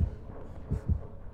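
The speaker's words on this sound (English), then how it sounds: "I bet you I can hear his heartbeat." A low, muffled heartbeat from the Dead by Daylight video game, a few soft thumping pulses at a steady rhythm with a faint hum underneath and no speech.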